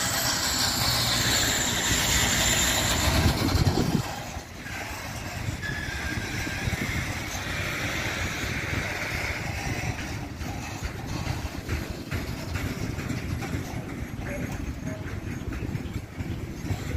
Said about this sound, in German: Wie ihr sehen könnt, ein Holzganzzug.